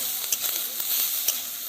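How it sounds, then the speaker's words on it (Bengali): Cleaned, peeled shrimp fry in hot oil in a kadai with a steady bright sizzle, crackling spikes popping through at intervals, close and moderately loud, with no voices. "ওই কড়াইয়ের ভিতরে দেওয়া হলো বেছে খুঁটে পরিষ্কার করে রাখা চিংড়ি মাছ। এটা অল্প সময় ধরে ভাজবো"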